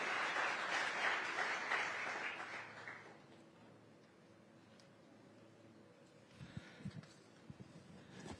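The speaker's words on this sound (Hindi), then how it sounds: "जोरदार तालियों के साथ अभिनंदन करिए श्री नितिन गडकरी जी का।" An audience at a stage event applauds to welcome a speaker with a burst of steady clapping that fades out after about three seconds. A quieter stretch follows, broken near the end by a few faint thumps.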